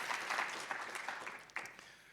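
A small meeting audience at an annual general meeting gives brief, quiet applause for the outgoing president, scattered distant claps fading within a couple of seconds.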